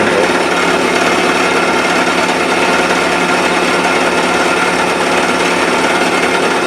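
A machine cuts steel for a Dickson tool holder, taking a heavy single pass, with a loud, continuous, dense grinding roar held steady and close throughout.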